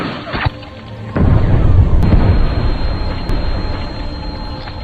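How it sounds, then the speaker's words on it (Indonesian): A bomb detonates in a sniper war film as Russian soldiers walk into the trap: a heavy, booming blast erupts after a brief quieter lead-in, then rumbles on loud and dense with a couple of sharp cracks inside it. "bom pun diledakkan."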